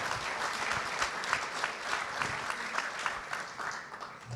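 An audience applauds an Olympic champion at a Paris summit event, dense continuous clapping from a sizeable crowd, moderately loud and even throughout.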